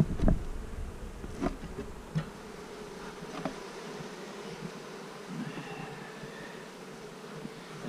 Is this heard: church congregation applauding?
no